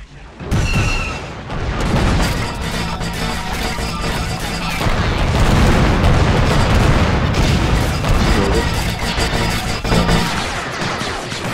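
Troops fire guns across a battlefield in the strategy game Men of War Assault Squad 2, a sustained loud din of rifle and machine-gun fire mixed with booms and explosions.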